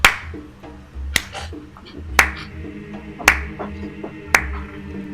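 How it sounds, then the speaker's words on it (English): Sharp, bright claps or snaps ring out about once a second over a low musical background, five evenly spaced hits. "you begin to hear an audible clap"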